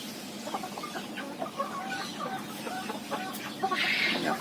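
Imported big-foot chickens, a group of three breeding birds on a farm, clucking in short repeated calls at close range over steady farmyard background noise.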